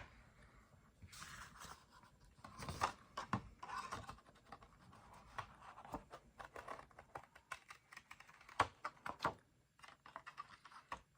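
Small Tim Holtz scissors cutting through paper card, a string of soft, quiet snips and crisp rustles in irregular bursts, close up with no talking.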